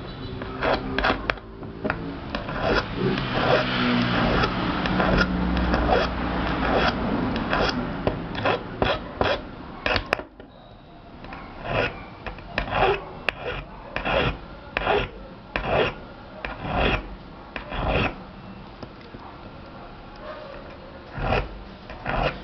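Cuticle nippers being sharpened by hand on a file, with close, dry rasping strokes that run quickly together at first, then fall into a slower rhythm of separate scrapes.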